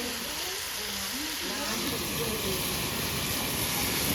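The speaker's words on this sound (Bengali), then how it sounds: "একদম দারুণ মাংস কষানো হচ্ছে। আর আজকে তো চিকেনটা কষা কষা হবে।" Chicken sautéed kosha-style in a pan gives a dense, continuous sizzle and hiss, close and steady, while a voice talks over it.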